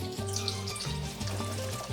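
Butter sizzles and fries in a pan while rice is prepared, a steady crackling hiss with a low bubbling hum underneath, continuous and close.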